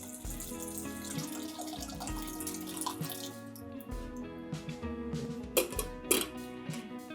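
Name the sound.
pouring water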